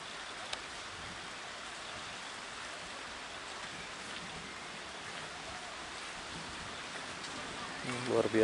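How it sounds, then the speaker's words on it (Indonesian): Light drizzle falling on the southern slope of Mount Merapi, a soft steady hiss of rain throughout, with a low rumble rising at the end. "hujan gerimis masih mengguyur kawasan lereng Merapi, sisi selatan."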